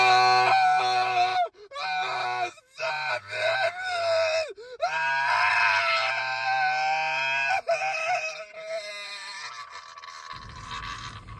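A man screams and cries out in horror and anguish, long anguished wails rising and breaking with short gasping pauses, loud and close, fading into noise at the end.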